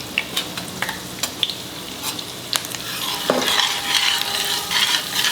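Chopped garlic and ginger sautéing in a hot pan, a steady sizzle with intermittent scraping and clinks of a utensil stirring, close and clear with no talking.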